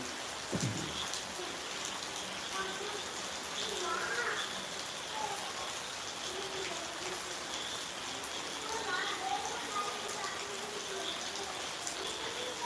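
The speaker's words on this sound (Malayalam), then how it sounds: "ഇവിടെ നല്ല മഴയാണ്" Steady rain patters down in a continuous wash, fairly soft and distant, with faint voices now and then beneath it.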